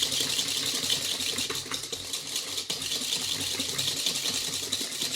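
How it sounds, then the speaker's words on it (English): A hand whisk beats banana pudding mixture in a bowl, producing a steady, fast scraping and clicking churn that runs close and continuous throughout, with no talk. "I'm just going to whisk and whisk and whisk."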